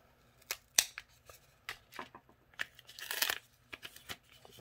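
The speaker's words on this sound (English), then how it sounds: "Let's see if I can get this opened up without damaging my card." A mail package holding a card is cut and torn open up close, with sharp scissor snips, crinkling wrap and a longer tearing rip in short irregular bursts at a quiet level.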